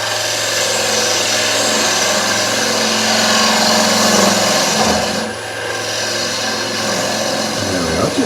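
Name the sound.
bowl gouge push cut on wood lathe turning a bowl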